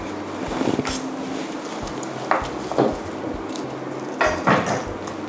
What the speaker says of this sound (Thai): จากนั้นคุณผู้ชมก็จะต้องนำเนื้อวัวมาหั่นเป็นชิ้นบางๆค่ะ